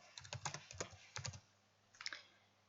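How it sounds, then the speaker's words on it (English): Password being typed on a computer keyboard: a few quick bursts of close key clicks, a pause, then one more short cluster of taps. "and by typing the password"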